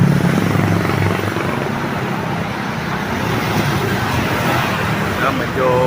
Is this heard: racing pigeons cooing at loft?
no